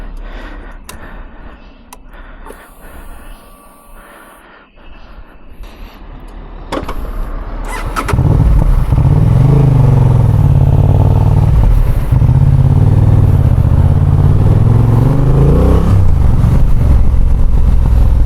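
A motorcycle engine drones steadily while riding the foggy Charmadi Ghat road, growing louder and fuller partway through with heavy wind rush, a continuous close roar without talk.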